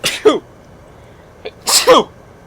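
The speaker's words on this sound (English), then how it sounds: "I sneezed" A person sneezes twice, close and loud, with a small click between the bursts, while working outdoors laying grass in a baby turkey enclosure.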